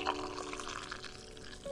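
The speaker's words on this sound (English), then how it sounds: "begin to slowly pour the hot water into your mug" Hot water poured slowly into a mug for tea, a steady soft splashing trickle that runs continuously and fairly quietly with no other sounds.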